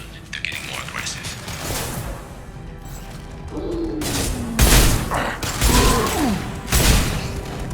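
Gunfire in the video game Mass Effect 2 comes as loud, broadband bursts in several volleys toward the end, with softer mechanical clatter and game voices in between.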